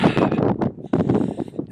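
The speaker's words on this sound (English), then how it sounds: "It's a little windy right now." Gusty wind buffets the microphone outdoors in Colorado's San Luis Valley on a cool day, with rough rushing bursts and a brief lull before it picks up again.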